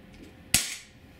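A Walther PPS 4.5mm CO2 blowback airgun fires a single sharp crack with a bright metallic snap of the cycling slide, followed by a short fading tail in an otherwise quiet space.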